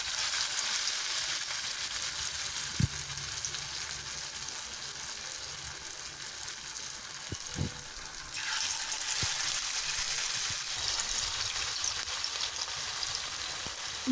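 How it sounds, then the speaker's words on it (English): Cabbage vada sizzle in hot oil in a frying pan, a steady dense crackle with a few soft knocks and a brief surge partway through. "Now I'm adding another set of vada into the frying pan."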